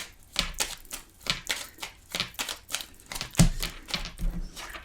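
Tarot cards being shuffled by hand during a reading, giving a steady run of crisp, papery riffling and slapping bursts, repeated many times in quick succession, close and moderately loud with no talking.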